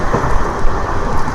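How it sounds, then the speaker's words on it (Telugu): Heavy rain pouring outside a moving train, a dense, loud continuous wash with low rumbling underneath, no voices. "వర్షం ఒక రేంజ్లో పడుతుంది"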